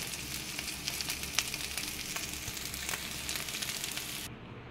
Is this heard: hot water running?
no